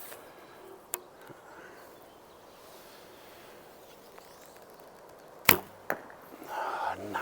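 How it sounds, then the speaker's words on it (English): Arrows loosed from an Alibow Imperial Kheshig bow hit the target with a solid thunk and a quick follow-up knock, after a faint earlier tick against quiet outdoor background. "Now it's more like a thunk, a really nice sound."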